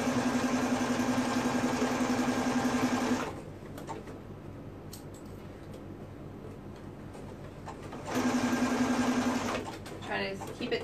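A sewing machine stitches stretched mesh fabric for boys' shorts in two steady, rapid bursts of mechanical whirring, separated by a quieter pause with small handling clicks.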